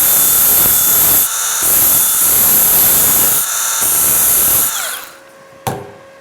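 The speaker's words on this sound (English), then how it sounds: "So again, I'm just using this Milwaukee grinder." A Milwaukee angle grinder grinds down a TIG weld made with a budget TIG welder, a loud sustained high-pitched whine that dips in pitch a couple of times as it bites, then spins down and stops with a final clack.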